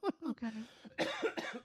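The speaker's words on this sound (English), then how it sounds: "excuse me, I have this cough and I've had it for like 2 weeks" A person coughs several times in short, harsh bursts, close and fairly loud, with a throaty, voiced quality that comes from a cough lasting two weeks.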